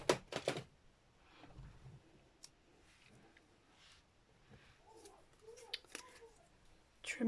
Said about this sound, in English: Just trim that down.